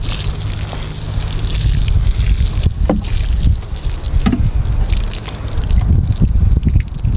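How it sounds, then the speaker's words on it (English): Water splashes and trickles onto freshly planted carrots in a garden bed, a steady close wash of pouring and dripping with occasional louder spatters throughout. "I'll just water the carrots I planted in video number 2 at the same time here"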